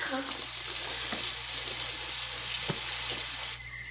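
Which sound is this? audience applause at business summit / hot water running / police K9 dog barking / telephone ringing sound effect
hot water running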